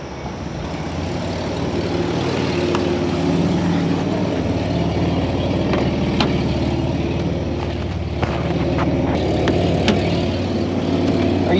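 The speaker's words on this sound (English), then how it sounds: "You see, I heard his car." Car engine idling nearby at night with a steady, moderate low rumble and faint background noise.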